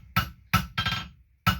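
A hammer strikes hot metal on an anvil while a drift is forged, four sharp ringing blows in an even rhythm, the third a quick double or bouncing hit, close and clear with no talk.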